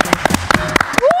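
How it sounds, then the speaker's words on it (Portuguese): One person claps a few times on a talk show set, sharp isolated hand claps spaced irregularly, close and loud, interleaved with people talking. "só eu aplaudi, foi muito ridículo"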